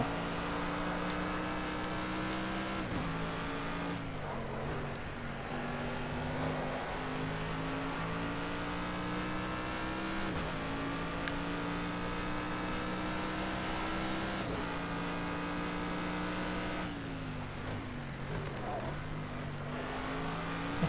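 GT3 race cars in a racing video game hold a loud, continuous engine drone that dips and climbs again with each gear shift and corner over a full lap section.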